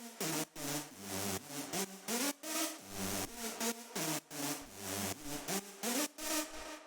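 A main synth lead from an electronic music production track, processed with a Haas stereo-widening effect, plays a rhythmic, choppy melodic line of short bright stabs over a bass pulse, loud and upfront with no talk.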